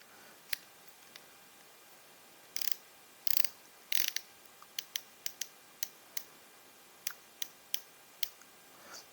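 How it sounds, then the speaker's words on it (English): A Wera KK 60 RA ratchet screwdriver is worked back and forth close up, giving short bursts of fine clicking followed by a series of single, crisp ratchet clicks against quiet surroundings. "Just test out what the ratchet is like on this."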